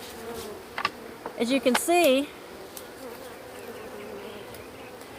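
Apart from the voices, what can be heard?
bees flying around a hive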